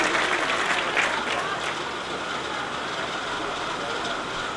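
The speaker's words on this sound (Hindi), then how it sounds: "एक बार पुनः जोरदार तालियां।" Loud, steady applause from a crowd at an outdoor cow shelter religious event honoring donors, a dense wash of clapping that holds evenly from start to finish.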